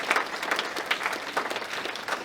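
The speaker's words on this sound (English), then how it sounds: "please join me in giving these gentlemen a round of applause as they follow Mr. Ishimoto off the platform" Audience applause at a powerlifting championship for 93 kg sub-junior and junior men, a steady dense patter of many hands clapping at moderate distance throughout, with no talking over it.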